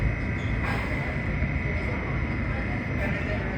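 A D subway train runs along the F line toward Coney Island from Kings Highway, its steady rumble and rattle filling the car without pause.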